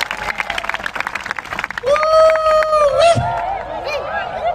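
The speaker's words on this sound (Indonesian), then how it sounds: "Berikan tepuk tangan yang meriah buat Tuhan." Congregation at an evangelistic church revival service in Manado claps loudly for God, a dense burst of applause with crowd noise that gives way to sustained tones and cheering.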